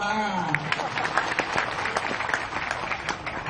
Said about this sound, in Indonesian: Woi, hebat, tepuk tangan.